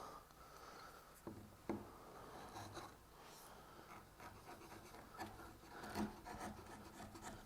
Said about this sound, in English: Let's take a chisel and pull some of that off.